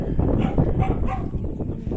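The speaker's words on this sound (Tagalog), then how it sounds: "Yung aso." A dog barks and yips close by over a busy outdoor background of animal noise, with many chickens and ducks around in a suburban village.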